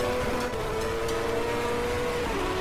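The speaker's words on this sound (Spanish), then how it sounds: "Otro acelerón, esto es la hostia." Engine of a race car in a racing video game accelerating, a continuous buzzing, revving drone with a pitch shift near the end, loud and steady with no voice over it.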